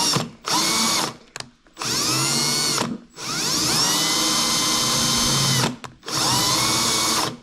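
A power drill bores a hole through the gel coat of a monohull boat hull while the strut and rudder are being fitted: loud, close whirring in several bursts separated by brief pauses.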